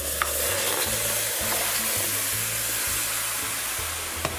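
Lamb pieces hit a pot of sugar caramelized nearly to black for a Trini stew, setting off a loud, steady sizzle with a constant frying hiss and low bubbling throughout, no voices over it.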